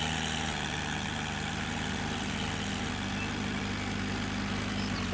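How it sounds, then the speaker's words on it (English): A steady, low tractor engine drone in Farming Simulator 19 hums at constant pitch, an idling motor that stays even and continuous without any voices. "What is that noise? That's a tractor, I think."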